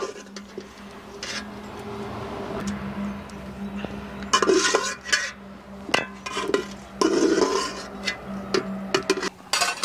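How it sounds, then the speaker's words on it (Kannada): Homemade tomato red chilli chutney ingredients, roasted mustard seed, fenugreek and cumin with tomatoes, ground by hand in a traditional stone mortar, giving repeated scraping, knocking and grinding strokes up close, with faint background noises. "ಉರಿದ್ಬಿಟ್ಟು ಇವಾಗ ಒಳಕಲ್ಲೇ ರುಬ್ತಾ ಇದ್ದೀವಿ"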